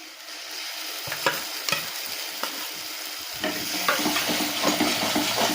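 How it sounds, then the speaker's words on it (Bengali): A sharp sizzle erupts as wet ground spice paste hits hot oil with fried onions, with scraping stirring strokes, then steady frying continues loudly. "এবার আমি ভাজা পেঁয়াজের মধ্যে বেটে রাখা মশলাগুলো দিয়ে দেবো"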